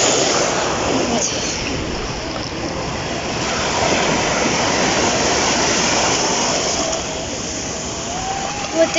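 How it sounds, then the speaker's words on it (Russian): Strong sea waves breaking at the shore, a loud, broad churning roar that builds and recedes across several seconds, heard close with no voices over it. "Вот такие волны"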